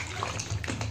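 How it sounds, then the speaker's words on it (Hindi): Mushrooms are rubbed and washed by hand in a vessel of water, giving close, continuous sloshing and splashing with soft rubbing noises. "फुल पानी में इसको रगड़ रगड़ के धोना है"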